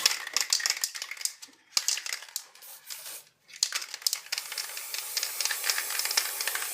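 Blue spray paint hisses from an aerosol can in a series of close bursts, with brief pauses and a short silent gap midway, no voices.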